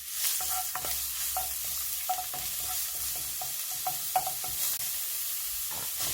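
Garlic and sliced chillies stir-frying in oil, a gentle sizzle broken by repeated light taps and scrapes of a utensil against the pan at an uneven pace.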